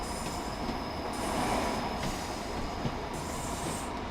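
A train in the game Train Sim World 6 on the Blackpool branches rumbles steadily along the rails with a faint high squeal from the wheels, a continuous mechanical roar as it slows.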